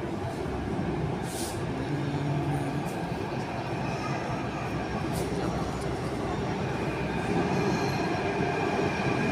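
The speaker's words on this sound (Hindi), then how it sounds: "मेट्रो आ रही है बहुत ही तेजी से, आप देख सकते हैं कितनी तेज आ रही है मेट्रो" A Jaipur Metro train arriving at a station rumbles steadily and loudly, wheels squealing faintly on the rails as it rolls along, with a continuous roar throughout.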